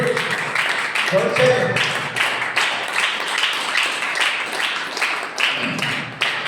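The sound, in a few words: congregation clapping hands at a Sunday church service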